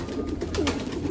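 Pigeons cooing at a pigeon market, a few soft low coos close by against a busy background hum.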